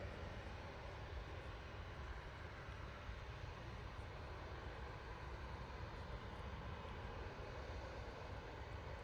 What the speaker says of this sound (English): There goes the Arini in the ex-Avianca liveried ATR 72,